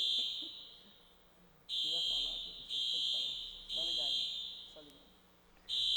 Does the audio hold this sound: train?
no